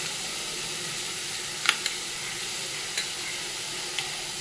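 Onion frying with a paste of ginger, garlic and green chili: a steady, close sizzle with a few brief pops and stirring clicks scattered through, no talking.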